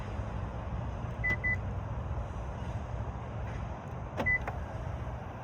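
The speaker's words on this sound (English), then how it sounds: "when I lock and unlock the vehicle, your mirrors will unfold and fold in" Power side mirrors on a 2023 Kia Stinger GT2 AWD folding and unfolding as the car locks and unlocks, giving two brief motor whirs a few seconds apart, each joined by a short beep, over a steady low background rumble.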